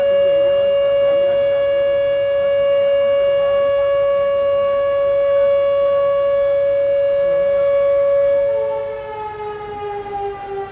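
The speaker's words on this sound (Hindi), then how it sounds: "यहाँ से पहले साइरन बजेगा, फिर हम आपको फ्लैग होस्टिंग के लिए दावत देंगे" A civil defence-style siren sounds loud and steady at an outdoor Independence Day flag hoisting ceremony, holding one strong sustained tone for about nine seconds before winding down and falling in pitch, with no voices.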